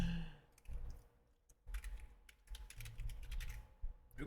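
Close, quiet typing on a computer keyboard, with rapid clusters of key clicks broken by short pauses and a soft breath or sigh near the start.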